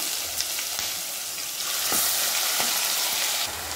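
Ground spice paste hitting hot oil with crackling cumin, black peppercorns and a piece of clove in a home kitchen pan, giving a steady close sizzle with sharp pops and scraping stirs all the way through, no talking.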